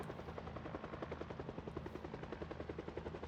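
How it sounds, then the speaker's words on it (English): A helicopter in the Project Zomboid video game flies overhead, its rotor chop a steady, loud, rapid thudding pulse that holds throughout with no talk over it. "While this helicopter draws every zombie in a 5-mile radius to our location."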